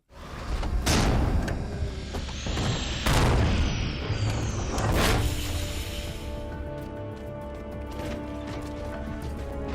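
Heavy mechanical thuds and booming crashes from the Mantis mech in Halo 4, several loud impacts in the first few seconds over a steady rumbling game soundscape with a rising whine.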